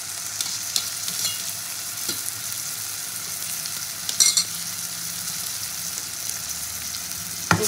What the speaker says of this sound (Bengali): পেঁয়াজটা তো মোটামুটি সেদ্ধ হয়ে গেছে, ভাজা হয়ে গেছে। এবার আমি এক এক করে মশলা দেবো, বাটা মশলাগুলো দেবো।